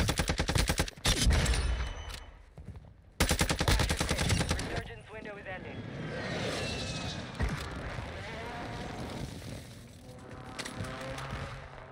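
A video game gun fires in long rapid automatic bursts, loud and close, broken by short pauses and followed by scattered game sounds and distant shots, with a voice speaking briefly under it.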